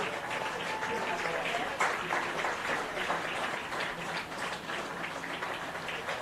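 A crowd applauds steadily in a high-school football stadium, a broad, even wash of clapping sustained throughout at moderate distance.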